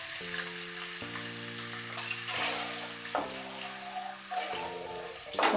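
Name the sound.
tomato paste frying in oil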